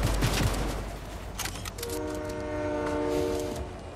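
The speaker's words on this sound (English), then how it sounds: "All I wanted to do was get hit by a train." A train rumbles past in a video game, with a sustained multi-tone horn blaring over the rolling rail noise and some rattling clatter, loud and close for several seconds.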